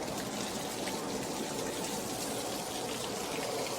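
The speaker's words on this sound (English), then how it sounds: "there's some water that's up top that needs to be drained out" Water drains from a fire pump as a steady, fairly close gushing and splashing flow, continuous and even from start to finish.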